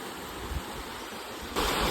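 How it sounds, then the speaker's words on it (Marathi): River water flowing beside a farm, a steady broadband rush that stays close and continuous, swelling louder in the last moments, with no voices. "आमची नदी दाखवतो मला बघ कशी नदी"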